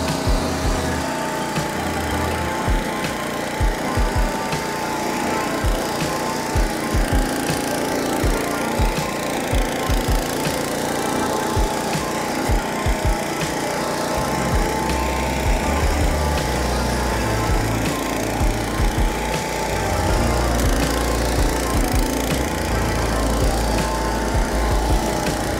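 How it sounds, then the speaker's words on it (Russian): Caima flail mower mulcher cutting vegetation, a steady loud engine drone with dense broadband mulching noise that deepens partway through as the load changes. "Давайте чуть оборотов побольше дадим. И попробуем косить."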